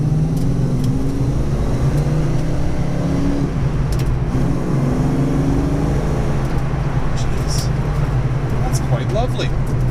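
Ford Mustang Fox Body 5.0 V8 with a full aftermarket exhaust, heard from inside the closed cabin as it accelerates through a shift around 4,000 RPM, a steady loud rumble with rising and falling engine tones and no talking.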